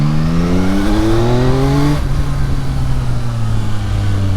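A Yamaha MT-09 motorcycle engine winds down under hard braking, a loud, close roar falling steadily in pitch, then settling into a lower drone with no talking.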